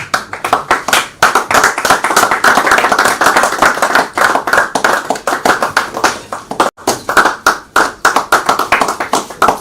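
Audience applauding at a live-streamed event on Honor Television, honoring a guest being represented on stage; loud, dense clapping with distinct individual claps, a brief dip partway through, then continuing.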